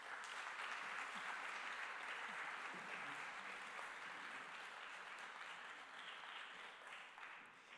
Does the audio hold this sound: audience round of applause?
yes